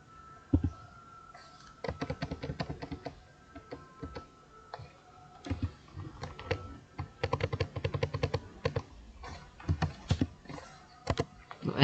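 Rapid bursts of keystrokes on a computer keyboard as a Linux touch command is typed, close and crisp, with irregular clusters of clicks separated by short pauses and no talking.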